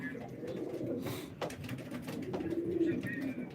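A pigeon cooing softly at a live pigeon auction, low rolling coos under a murmuring room with faint voices in the background.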